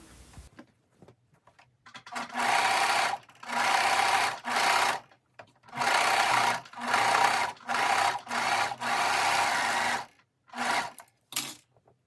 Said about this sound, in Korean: 허리와 밴드가 겹쳐진 시접 부분은 오버록 스티치를 해줍니다.